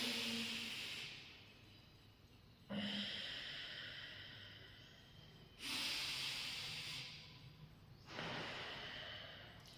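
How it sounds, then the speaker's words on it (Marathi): Deep, forceful breaths drawn and released through one nostril during alternate-nostril pranayama. Long hissing inhales and exhales repeat three or four times, close and loud, with quiet pauses between them. "उजवीकडून जास्तीत जास्त श्वास भरायचा आहे आणि जास्तीत जास्त श्वास सोडायचा"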